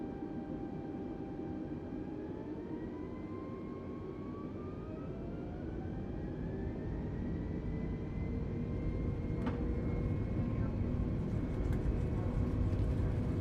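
Twin rear-mounted jet engines of a Boeing 717-200 on takeoff roll in Microsoft Flight Simulator 2020, a steady broad roar with rising whining tones that slowly builds in loudness, heard alone.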